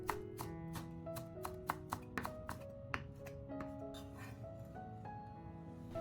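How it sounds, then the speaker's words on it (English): A knife chops green chives into small pieces on a board, a quick run of crisp rhythmic taps close up over a faint background hum, spaced more loosely toward the end. "prepare some green chives and chop them into small pieces"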